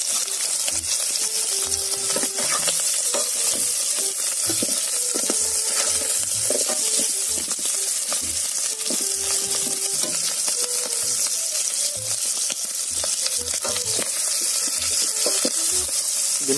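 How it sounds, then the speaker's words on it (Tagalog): Vegetables for Visayan utan, with fried potpot, frying outdoors in an oil-filled pan: a steady loud sizzle throughout, broken by repeated scraping and knocking of a spatula against the pan as the food is stirred. "Ganito kami mag-prito ng putput."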